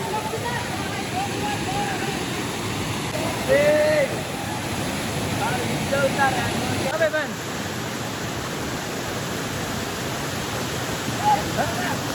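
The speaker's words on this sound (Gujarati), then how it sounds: "મિત્રો હું હાલ આ વોટરફોલની આગળ ઊભો છું" The Jhumfali waterfall at Danta, Banaskantha, roars steadily and loudly throughout, a dense rushing wash of water, with faint voices and a few chirps barely above it.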